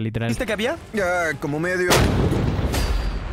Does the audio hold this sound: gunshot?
yes